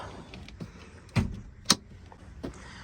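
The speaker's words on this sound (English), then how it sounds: "Let me just open the door, pop the hood." A car door opening and the hood release being popped on a project car with coilovers, several sharp mechanical clunks and clicks, two louder latch snaps standing out against a quiet background, with no talking.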